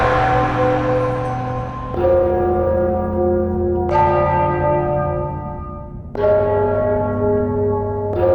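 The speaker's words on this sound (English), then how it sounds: "I'm sure the bells have something to do with the riddle." Church bells in the video game Enderal toll in three slow, resonant strikes about two seconds apart, each loud, bright and ringing out with a long decaying hum, with no voices present.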